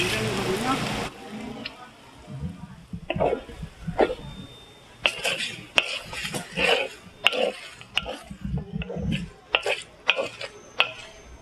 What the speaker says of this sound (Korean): 먼저 간장이 없어질 때까지 볶아줍니다